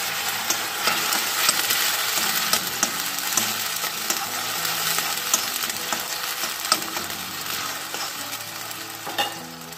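Chicken with nakima and a spice mix frying in a pan gives off a steady, close sizzle with stirring scrapes and occasional sharp crackles throughout.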